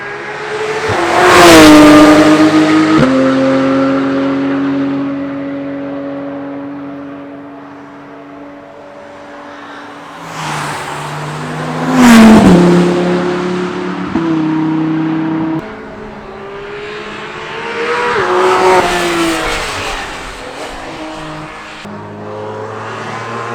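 Race cars roar past on the Nurburgring one after another, three loud engine passes rising and falling as each car approaches and fades, with quieter gaps of distant engine noise between them.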